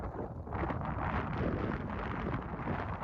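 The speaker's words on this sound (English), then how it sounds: "Windy as all hell too." Strong blizzard wind roars and buffets steadily against the microphone, a constant rough rush with no voices.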